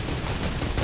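Rapid bursts of automatic gunfire in a Fortnite match, a dense, loud, continuous crackle of shots with no voices over it.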